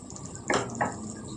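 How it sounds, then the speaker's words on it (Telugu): Water splashes into a pan of cooking spinach curry in two brief bursts, one right after the other, fairly quiet against a soft background. "కొద్దిగా ఇప్పుడు నీళ్ళు వేసుకుందాం."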